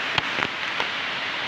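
Rain falling steadily outdoors amid strong wind, a constant hiss of drops on surfaces with a few sharper taps and knocks close by, no voices.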